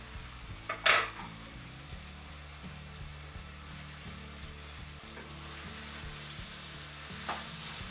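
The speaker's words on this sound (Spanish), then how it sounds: "añadimos la cebolla cortada en juliana y los ajos laminados. Y seguimos cocinando." Julienned onion and sliced garlic fry over moderate heat in a pan with a steady close sizzle, broken by a couple of sharp clinks of a utensil against the pan, and no one speaking.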